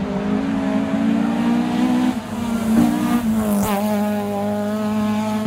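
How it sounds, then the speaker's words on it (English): A four-cylinder car engine with pronounced induction noise revs up close and loud. Its tone holds, dips briefly and then surges again before settling into a sustained rev. "the induction sound from this engine is so pronounced"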